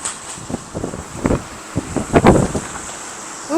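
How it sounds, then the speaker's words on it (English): Breezy wind gusting across an outdoor plant nursery in Farmersville, steady rushing buffets with brief rustling bursts, close and fairly loud, no voices. "It's breezy."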